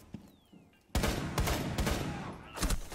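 Gunfire rings out in the video game Rainbow Six: a brief lull, then loud, sustained overlapping bursts of shots close by, with one sharper volley near the end.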